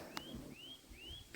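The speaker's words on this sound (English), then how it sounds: "Beautiful bird sounds and Frank's big footsteps dragging his feet." Birds sing at a campsite in Sugarloaf Park: three faint, rising whistled notes repeat at a steady pace with soft background rustle.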